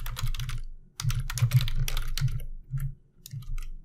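Someone types on a computer keyboard while filling in an online form, with quick bursts of close, crisp key clicks separated by short pauses.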